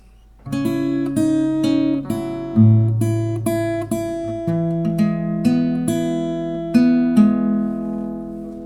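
Plucked acoustic guitar picked fingerstyle, playing the verse of the worship song "Our God", individual notes ringing over a low bass line in a steady, moderate pattern, close and clear with no voices.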